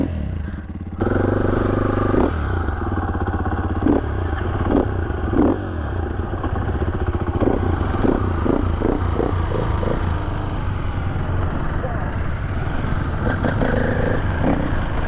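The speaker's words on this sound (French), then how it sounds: "Petit tour de chauffe pour que les motos soient opérationnelles." Two KTM supermoto bikes, a 450 EXC-F and a 390 SMC R, idle and blip their single-cylinder engines while warming up, a loud, steady close-range engine drone with repeated short throttle revs throughout.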